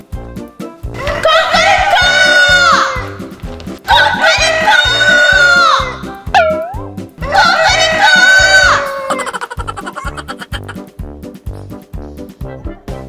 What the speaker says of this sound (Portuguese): Galo! Cocorico!